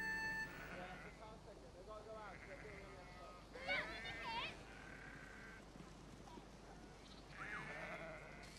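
Cartoon sheep bleat several times over a steady music-like background, with voices talking throughout.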